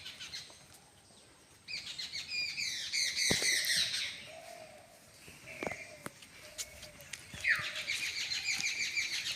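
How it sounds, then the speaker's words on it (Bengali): Birds chirp and tweet in quick, bright bursts around a quiet nature ashram. The bursts come in two clear spells over soft background hush, moderately close, with a faint voice now and then. "খুব সুন্দর পাখির শব্দ।"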